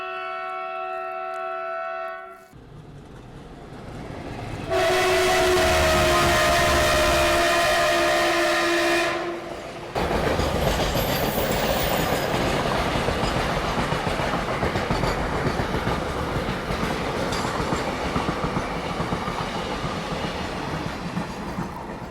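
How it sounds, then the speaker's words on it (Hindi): A train passes near Beawar railway station in Rajasthan, with a long loud horn blast followed by steady close rumbling and clattering of wagons rolling by. "कोई तो ट्रेन मेरे ख्याल से DFC भी कोई ट्रेन जो है वो निकलने वाली है"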